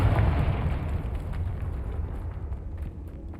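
A Confringo fire spell in the Hogwarts Legacy game goes off as a heavy, rumbling blast, a deep booming roar that starts strong and slowly dies away over a few seconds.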